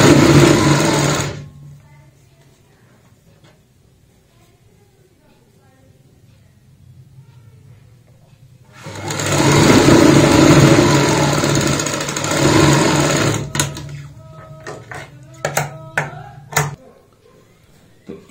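A sewing machine stitches a strip onto a baby frock in two bursts, a short one at the start and a longer run later, close and steady, with quiet stretches between and choppy bursts of handling at the end.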